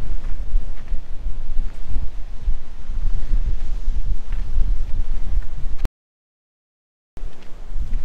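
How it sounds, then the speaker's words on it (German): Strong wind buffets the microphone outdoors by the sea on an island, with a low rumble and gusty roar, cutting out briefly before returning. "Heute ist es zwar ein bisschen windig"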